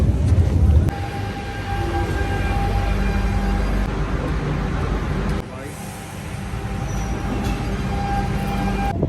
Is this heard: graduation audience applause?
no